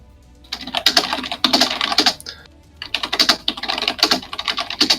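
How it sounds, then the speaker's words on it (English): Loud computer keyboard typing in fast, irregular bursts of sharp clacks, with a short pause around the middle, close and alone without speech. "Angry typing."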